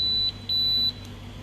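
Several short, high electronic beeps from an electric hot plate being switched on chirp in quick succession, then stop, over a quiet background hum.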